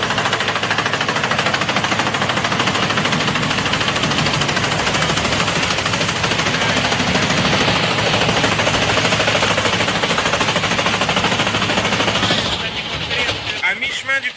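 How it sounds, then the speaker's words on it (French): Triplex glass crusher with rubber rollers grinding laminated glass, a loud, continuous dense crunching and mechanical rumble that runs unbroken for over twelve seconds before thinning into scattered rattles. "Le verre pénètre dans les rouleaux de réglage. Concernant le caoutchouc, ils vont tirer. Ils lancent le processus."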